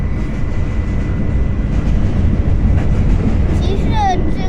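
An old New York subway train rattles and rumbles steadily in a loud, continuous wash of noise, with brief high squeals near the end and people talking over it.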